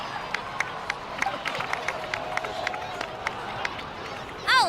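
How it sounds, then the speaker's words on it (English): Crowd cheering and clapping at a celebration in the Genshin Impact game, with scattered sharp claps over a steady murmur of voices throughout, ending in a brief rising whistle-like sound. "please give another round of applause for them."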